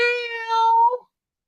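A single sustained meow, clear and close, holds steady for about a second and then cuts off into silence; it may be a person imitating a cat.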